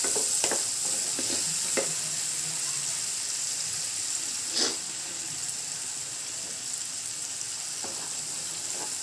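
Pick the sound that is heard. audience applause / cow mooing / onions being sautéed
onions being sautéed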